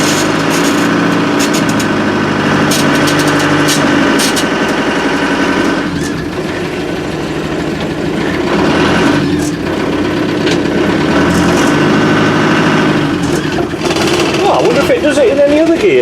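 A 1987 Land Rover Defender 90 in a forward gear gives a loud, steady mechanical whine and screech from its transmission over running engine noise, continuous for the whole stretch.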